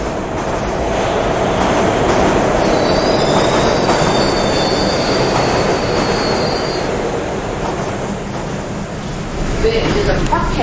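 A New York City 6 subway train bound for Parkchester in the Bronx rolls loudly and continuously, with a long high wheel squeal across the middle and a dense rumble of the cars throughout.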